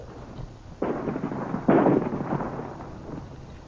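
Cannon fire blasting apart a rock, two heavy booming shots about a second apart with rumbling decay, loud and close, with no voices between them.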